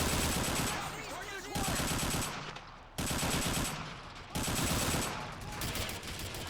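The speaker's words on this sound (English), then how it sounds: "Got some AK-74U action there, and an AK-47 opening up with some of the flanking police officers." Sustained automatic AK-47 fire in a Call of Duty: World War 3 mod firefight with SWAT and police, loud rattling bursts broken by short pauses, with a dense battle din throughout.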